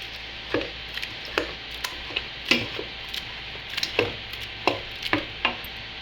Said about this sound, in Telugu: దీన్ని ఇప్పుడు పప్పు గుర్తుకొని మెత్తగా తిప్పుకోండి